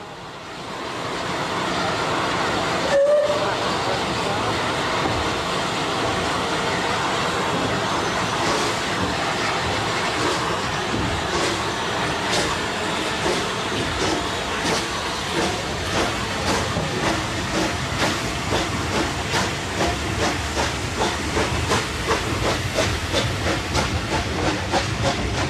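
Southern Railway West Country class steam locomotive running, carrying a Battle of Britain name and number, with loud steady steam hiss and rhythmic exhaust beats growing sharper over time, plus rail clatter, no voices.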